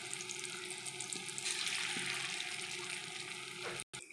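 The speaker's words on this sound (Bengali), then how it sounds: "সবগুলো একসঙ্গে কড়াইয়ে আমি ছেড়ে দিলাম ভাজার জন্য" Dough balls frying in hot oil in a wok, a close, steady bubbling sizzle with faint crackles, fairly quiet. A brief dropout comes just before the end.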